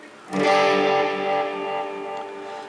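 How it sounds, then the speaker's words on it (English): A sustained electric guitar chord rings out through a Boss RE-20 Space Echo, washed in a spacious tape-echo reverb whose tail lingers and slowly fades. "you can start to hear that reverb that the Space Echo has"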